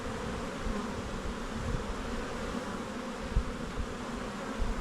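Honey bees in a nuc hive give off a dense, continuous buzz, steady and close for the whole stretch with no voices.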